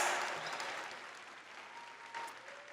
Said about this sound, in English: Come on, let's cheer this